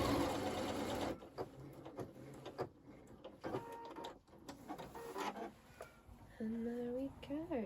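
A sewing machine stitches a French seam on a Shelby dress bodice in loud whirring bursts that stop and start. Someone talks in the pauses between runs.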